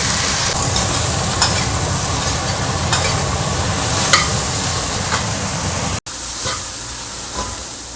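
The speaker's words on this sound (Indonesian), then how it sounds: "aku mau numis cabai hijau, 1 tomat, 3 cabai merah, bawang putih, sama ini teri udah aku cuci ya" Green chilli and anchovies are stir-fried in a large amount of oil, a loud close sizzle with scraping stirring strokes throughout and a brief cut near the end.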